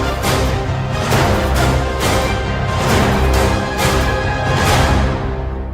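Orchestral template music plays steadily, with sketching patches, basic strings, orchestral enhancers and percussion building a dense, full texture and rhythmic swells, loud and continuous with no voices.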